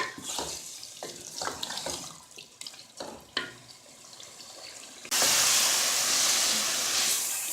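Water poured into a pan of sautéed potatoes and peas for aloo matar curry: a few utensil clinks, then a steady rushing splash that runs for the last couple of seconds.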